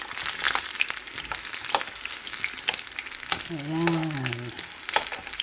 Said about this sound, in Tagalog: tayo magluluto ng turon.